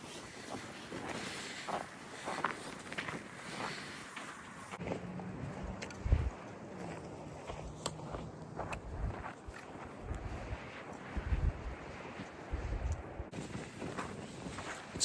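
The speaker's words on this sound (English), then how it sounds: "It's windy today." Wind buffets the microphone in a steady, rumbling rush outdoors on the Pacific Crest Trail, with occasional gusts and faint rustling throughout.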